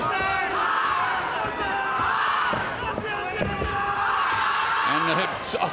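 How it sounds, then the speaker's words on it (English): An Australian contingent in a UFC arena crowd in Hawaii chants "oi, oi, oi" during a championship-round women's featherweight bout. Loud, rhythmic massed voices sit over a steady roar of crowd noise. "Australian contingent with chants of oi, oi, oi in the crowd."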